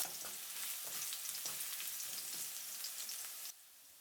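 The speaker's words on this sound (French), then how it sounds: "Quand l'huile est chaude, je mets l'ail haché." Minced garlic frying in hot sunflower oil in a pan over high heat, a steady close sizzle and crackle with scattered pops, loud throughout and dropping suddenly near the end.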